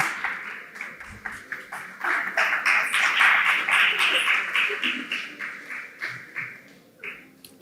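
Scattered audience applause at a medical expo panel and awards session, a crowd of hands clapping steadily for several seconds, then thinning out toward the end.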